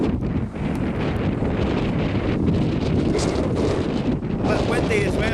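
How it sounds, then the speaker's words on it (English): Strong wind roaring across the microphone on a Scottish beach, in a constant heavy rush, with a faint hint of surf beneath and no clear talk. "A bit windy as well, so hopefully you can hear me."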